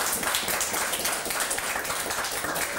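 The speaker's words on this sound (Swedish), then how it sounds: "Tycker jag Mattias är värd en applåd verkligen" A television studio audience applauds with quick, scattered hand claps that hold steady throughout, fairly close and moderately loud.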